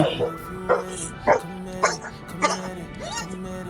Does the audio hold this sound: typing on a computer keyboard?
no